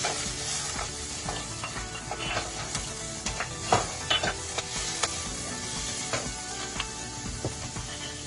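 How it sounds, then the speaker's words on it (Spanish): Vegetables sauté in hot oil with cauliflower, a steady crackling sizzle broken by sharp clicks and scrapes of stirring in the pan, close up with no voices. "con el aceite, sofreír todos los vegetales y unirlo con la coliflor, la sal y la pimienta"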